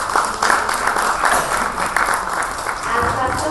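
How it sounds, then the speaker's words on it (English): A conference audience at an energy storage policy session in India applauds the panel speakers, dense sustained clapping filling the room at a fairly loud, even level. "And a round of applause for all our speakers for this session."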